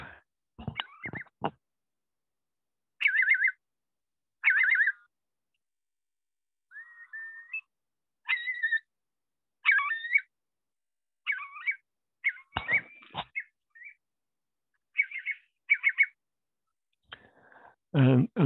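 Winter wading bird at a Devon estuary giving repeated clear whistled calls, short separate phrases spaced through a quiet stretch, with a few brief sounds of talk at the start and end.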